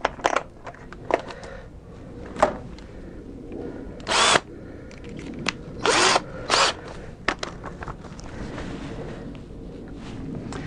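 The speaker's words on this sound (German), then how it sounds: "So, nächsten Bohrer." A power drill whirs in several short bursts of a second or so each, drilling holes in a Simson SR2 moped fuel tank, separated by clicks and handling noises, close by in a quiet room.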